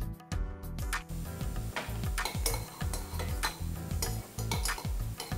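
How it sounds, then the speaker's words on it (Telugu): Dry fruits such as cashews and raisins fry in a little hot oil in a pan, with a metal spoon stirring and clinking rhythmically against it over a soft sizzle, close up and without talk. "మనం కొద్దిగా ఆయిల్ వేసుకొని ముందుగా దీని హీట్ చేసుకుందాం అంటే మన డ్రై ఫ్రూట్స్ ని వేయించుకుందాం"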